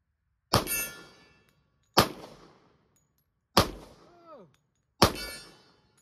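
Four Smith & Wesson M&P 2.0 10mm pistol shots ringing off steel targets, each a sharp crack with a metallic clang, spaced about a second and a half apart, close and loud.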